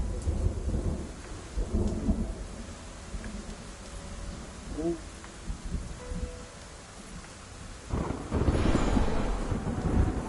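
A thunderstorm in the video game Frontier Pilot Simulator, with steady rain hiss, scattered rumbles and a loud thunder crash near the end, and a few brief bits of talk.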